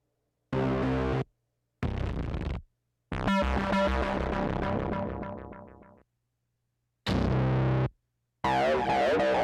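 Drum and bass track with an echo effect, heard as separate loud bursts of processed, distorted sound with pauses between them. One long burst repeats and fades out like echoing delays.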